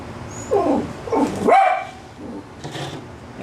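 A small, elderly 16-year-old blind dog named Shotzi barks several times in short, sharp yips close by, with a whimpering, strained quality between the barks.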